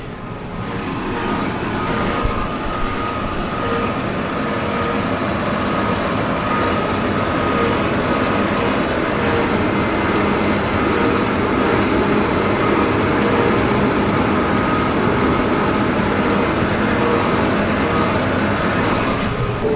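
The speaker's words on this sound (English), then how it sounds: "I'll show you the sprayer, just a little John Deere sprayer, 150-gallon tank." A small John Deere sprayer with a 150-gallon tank runs steadily, giving a loud, constant mechanical drone and whir that stays level for the full stretch, with no talking.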